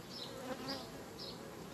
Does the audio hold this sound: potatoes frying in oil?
no